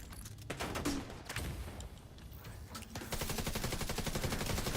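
Hostile turrets firing in a video game, rapid machine-gun bursts that stutter and then become a dense continuous rattle, steady and moderately loud.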